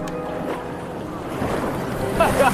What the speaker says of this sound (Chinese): 我今天看到很多的海浪